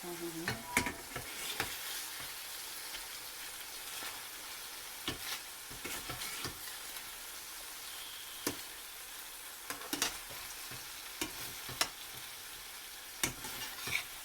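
Chicken pieces fry in a pan for a yogurt chicken fry, a soft steady sizzle broken by repeated scraping and clacking as a utensil stirs and turns them, fairly close and moderately quiet, with no talk.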